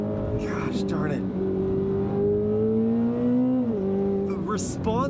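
A rear-drive 2026 Chevy Corvette ZR1 engine pulls hard out of a curve on a twisty road, a loud, steady droning note rising in pitch, heard from inside the car alongside someone speaking.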